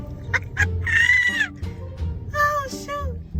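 A flock of birds gathered around a parked car, sharp squawking calls and a few longer cries overlapping at close range, loud and busy across a few seconds.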